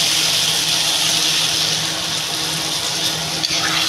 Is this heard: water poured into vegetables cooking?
yes